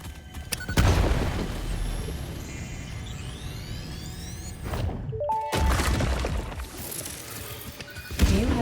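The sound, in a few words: explosions in the video game Satisfactory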